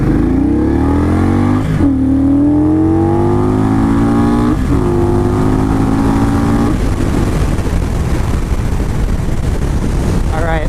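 A 2019 Indian Scout Bobber motorcycle on a test ride, its engine loud and close as it revs and climbs in pitch through several gear changes, then settles into a steady roar.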